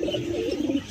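A pigeon gives a short, close, soft coo with a low warbling rise and fall. No other sounds are present.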